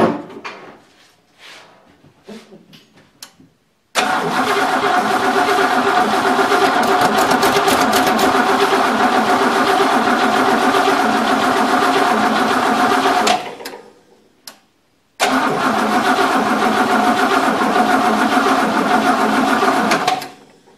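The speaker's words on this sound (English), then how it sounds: "now it's time to see if it'll pop off and see if it runs" Freshly rebuilt Oldsmobile engine cranking with a few short attempts, then catching and running loudly for several seconds, cutting out briefly and restarting to run steadily again.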